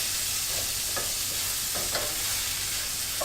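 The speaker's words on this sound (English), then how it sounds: "I burn the meat on one side while I'm on video" Meat fries in a pan on the stove, with a steady broadband sizzle throughout and a few soft stirring clicks, heard close and alone with no talking.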